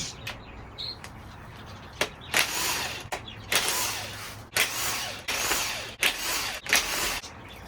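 Overpowered power tool spinning off 10mm valve cover nuts on a Honda B20B engine in a 1992 Civic EG, close, loud repeated whirring bursts of a second or so, separated by short pauses, clicks and clanks.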